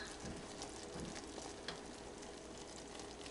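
Butterscotch fudge being stirred in a pot, giving a soft, continuous scraping and bubbling texture with faint clicks, fairly quiet and without talk.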